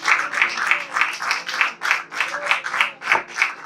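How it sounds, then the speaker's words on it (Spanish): A church congregation clapping in rhythm, a patter of many hands in regular pulses about four per second, moderately close with room echo and no talk. "dale un aplauso a Jesús"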